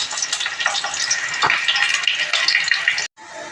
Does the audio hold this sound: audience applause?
no